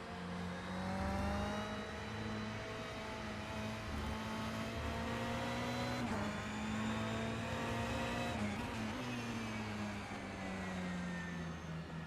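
GTE race cars lap Spa in a racing video game, a loud sustained engine whine from close by that climbs and drops through gear changes, with other cars' engines layered underneath and no talking.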